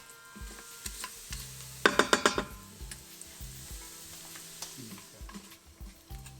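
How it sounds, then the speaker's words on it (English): Whole cloves and green cardamom pods sizzle in a pan while being stirred, a soft steady fry broken by a quick run of sharp scraping clicks and scattered spoon taps. "we'll add the green cardamom pods. And we'll give these a stir."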